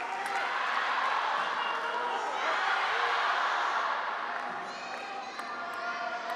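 A table tennis crowd at a Singapore Smash men's singles final roars in steady, loud cheering for Fan Zhendong, a broad continuous wash of voices and clapping that eases slightly toward the end.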